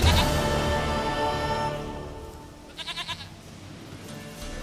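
Goat bleats in The Witcher 3: Wild Hunt, a short burst of several quick wavering bleats near the middle, set against a sustained musical drone.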